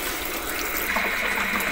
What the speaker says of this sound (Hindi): ये बिल्कुल ये इसमें थोड़ा सा पानी डालते हैं।